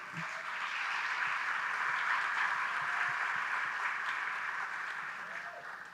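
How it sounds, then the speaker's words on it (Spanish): Sustained applause from a festival audience welcoming Kevin Johansen, a broad even wash of clapping that holds steady throughout and tapers slightly at the end. "Por favor, un aplauso para Kevin Johansen."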